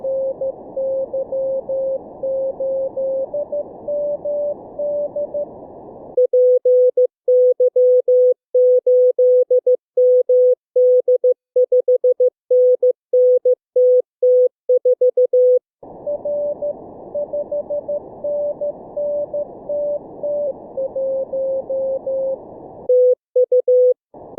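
A steady mid-pitched Morse code tone keys out a callsign in the Morse Runner practice program, alternating between longer runs of dots and dashes and a quicker, thinner stretch of beeps, loud and clean with nothing else heard.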